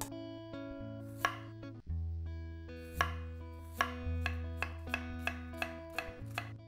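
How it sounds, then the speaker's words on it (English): A knife finely slicing cabbage for fermentation, a steady series of crisp, close chops on a board that quickens into a regular rhythm, set under sustained background music. "I'm going to finely slice the cabbage."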